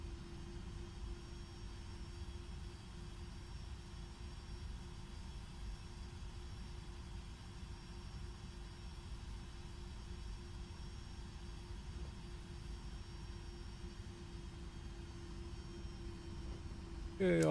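Steady jet engine drone from a Rolls-Royce-powered FedEx Boeing 757 freighter in flight in the X-Plane 12 simulator, a continuous low roar with a faint tonal hum, unchanging throughout and alone.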